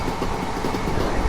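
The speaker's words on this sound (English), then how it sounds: "There's a train coming in this direction, as you can see there." A train rumbles steadily through a railway junction in Train Sim World on the East Coastway line, a loud, continuous close pass with no voices.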